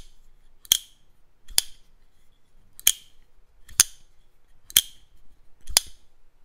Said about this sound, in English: The sound, the acoustics of this knife,